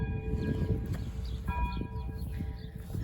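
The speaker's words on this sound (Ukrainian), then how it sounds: "Я живу біля храму, де чути дзвін." A church bell rings at a distance with sustained tones over steady outdoor background noise.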